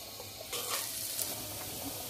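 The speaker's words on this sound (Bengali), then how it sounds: "পেঁয়াজগুলো আমার ভাজা হয়ে গেছে" Chopped onions fry in a pan of oil that was just used for small fish, giving a soft, steady sizzle with a brief stirring swell, fairly faint and close, with no voices.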